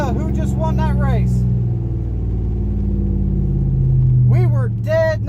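A drag race between a supercharged Chevy/GMC and a Challenger R/T leaves a loud, steady engine rumble throughout, heard up close and continuous, while excited voices shout over it at the start and end.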